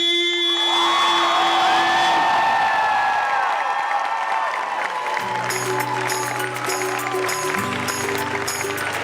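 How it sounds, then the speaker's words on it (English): A convention crowd at Anthrocon 2015's fursuit dance competition erupts in loud, sustained applause, whoops and cheers, with music joining in partway through. "In first place for Anthrocon 2015's Fursuit Dance Competition, please show some love for Sadie!"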